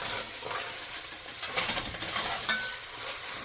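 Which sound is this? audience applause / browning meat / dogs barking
browning meat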